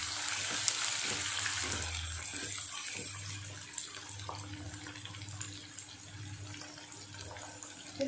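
Chopped onion hitting hot oil in a frying pan while cooking Schezwan noodles, a steady close hiss and sizzle running throughout with faint clatter, no talk.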